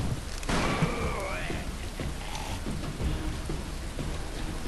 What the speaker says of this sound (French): Même par terre, ça fait mieux, en fait. Ça fait plus genre pluie qui tombe par rapport à avant